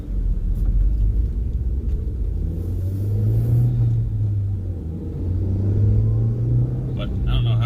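A car engine runs steadily with a deep, continuous rumble that swells slightly and eases off again over several seconds. It sounds close and fills the whole stretch.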